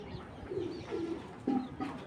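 Blue-eyed pigeons coo softly in low, rounded bursts, several throaty calls repeating close by against a quiet background.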